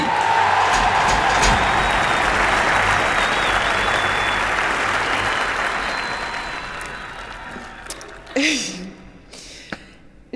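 A large audience applauds loudly and steadily, then the clapping fades out, followed by a few scattered thumps and brief voices.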